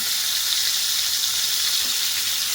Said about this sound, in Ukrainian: Обсмажуємо на вогні вище середнього.